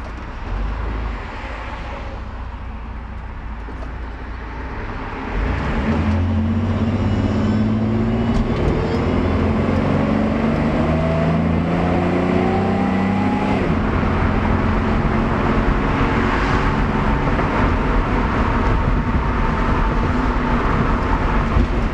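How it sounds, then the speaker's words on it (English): A car approaches and passes on a road beside a 1966 Corvair under repair, its broad engine rumble rising and holding steady and loud for most of the stretch. "Oh, we got a car coming here."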